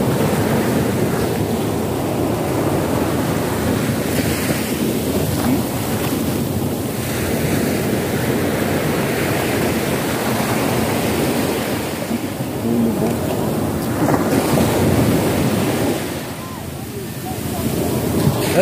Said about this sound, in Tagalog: Ayan beach, Nasugbu beach